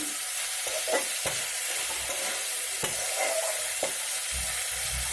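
Fish and onions fry in a pan for a home-cooked fish peyaji, a constant close sizzle broken by several sharp scrapes and knocks of a spatula stirring, no talking.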